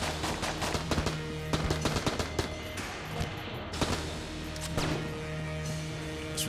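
Rapid bursts of enemy gunfire crackle continuously in the bullet hell game Enter the Gungeon, dense clattering shots and impacts layered over a background music drone.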